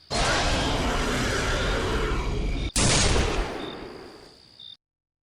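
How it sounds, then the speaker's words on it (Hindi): A loud, dense burst of gunfire roars continuously, cuts off abruptly, then resumes as another heavy volley that fades out. "गोली चलने की आवाज़ से उनकी नींद खुल गई।"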